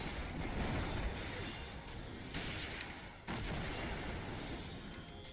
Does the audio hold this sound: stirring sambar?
no